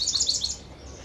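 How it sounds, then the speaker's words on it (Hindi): A small bird chirps on an apartment balcony, a quick cluster of bright, high tweets near the start that fades into quiet background hum within the second. "ये चिड़िया की आवाज़ सुबह शाम दोनों समय हमारी बालकनी में आती है।"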